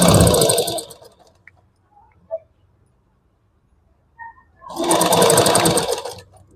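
A sewing machine stitches piping onto a dress neckline, with two loud rapid bursts of needle clatter at the start and end and a near-silent pause between them broken by a few faint clicks.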